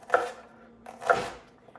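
Two crisp knife strokes land on a cutting board about a second apart as vegetables are cut into fine dice for Cajun red beans and rice.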